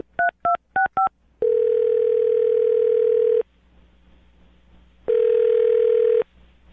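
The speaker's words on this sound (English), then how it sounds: "I'm going to dial his phone number right now" Four quick touch-tone dial beeps, then two long steady ringback tones separated by a pause, loud and clear on a telephone line while a number is called, with no talk.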